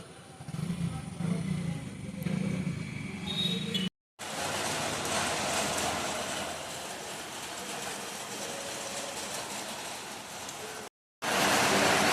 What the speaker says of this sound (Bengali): এই দেখো কি জোরে বৃষ্টি হচ্ছে এখন।